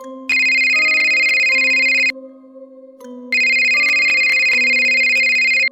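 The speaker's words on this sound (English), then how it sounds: "at that moment, the store phone rang." A store telephone rings loudly in two long electronic ring bursts separated by a short gap, a bright repeating tone with nothing else alongside it.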